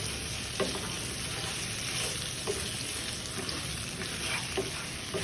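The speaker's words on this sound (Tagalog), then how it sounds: "imekos-mekos natin siya hanggang sa maghalo yung mga ingredients" Beef caldereta ingredients being stirred and mixed in a hot pan, a steady close sizzle and fry with occasional soft scrapes of the spoon, no voices.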